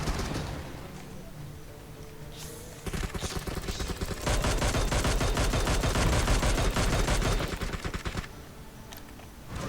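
Bursts of rapid automatic gunfire in the mobile battle royale game PUBG Mobile, sporadic shots first, then a long sustained volley of loud rattling fire before it stops.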